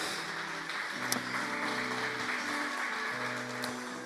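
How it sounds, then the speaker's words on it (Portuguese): A church congregation applauds in a sustained, soft wash of clapping that stays even throughout, with an organ or keyboard tone holding underneath and a few sharper claps standing out. "Você pode aplaudir ao Senhor."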